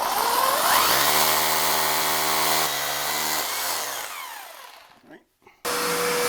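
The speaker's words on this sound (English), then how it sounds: "We're going to switch to a 1/4 inch bit and drill that hole we need for our anchor" A power drill with a 1/4 inch bit bores an anchor hole into a concrete slab. The motor whines loudly and steadily for several seconds, then winds down and falls quiet before a brief burst of noise returns.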